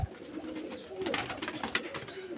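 Pigeons kept for sale, including flying and tumbling breeds, coo in low, throaty warbles close by, layered over soft background noise with no speech.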